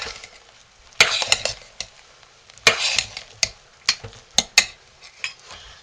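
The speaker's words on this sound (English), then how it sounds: "Now we're going to take the lid off of our crock pot and stir our soap." A spoon stirs thick cooking homemade soap (blue, from an all-in-one hot-process kit) in a crock pot: scattered scraping and clacking strokes, several sharp knocks against the pot, close and fairly loud with quiet gaps between.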